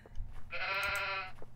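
A goat in the Minetest video game gives one sustained, wavering bleat lasting about a second, clear and fairly close over a quiet background.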